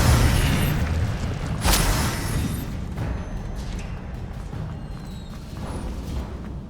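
A fire spell cast in Hogwarts Legacy, played on PS5, gives a burst of whooshing flame with a boom-like swell near the start that fades into a lingering crackling rumble, with no talk.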